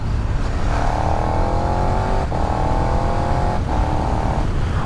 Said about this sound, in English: the sound of that exhaust and the induction roar is very, very nice